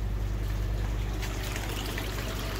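Tap water running steadily to top up a heated garden pond, a continuous close trickle and pour with a constant low hum underneath and no talking.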